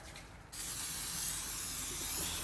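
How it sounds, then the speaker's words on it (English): Brake cleaner sprays in a sudden steady hiss onto a new rear brake rotor for a 2018 Chevy Cruze LT, starting abruptly after a quiet moment and continuing loud and close. "spray that down liberally"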